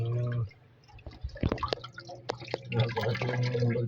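Water trickles and splashes in irregular drips and spatters into a storage-box crayfish pond, close by and moderately quiet, after a brief low humming tone at the start.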